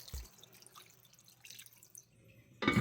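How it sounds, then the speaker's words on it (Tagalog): Water pours into a cooking pot of pork binagoongan with pork and shrimp paste, first as faint scattered drips, then a loud, close splashing rush in the final moments. "saka mo ilagay yung tubig."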